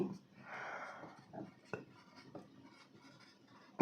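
Pen scratching across paper while a bank exam math solution is worked out, a soft rasping stroke followed by faint taps and small scratches, with brief quiet speech in the background.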